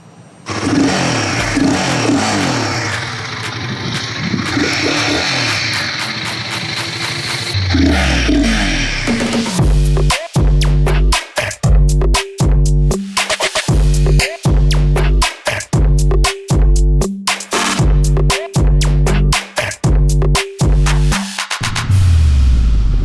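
Royal Enfield Guerrilla 450 single-cylinder engine idling loudly up close, then revved in a string of sharp, repeated blips, each rise cutting off quickly before the next, with no talk.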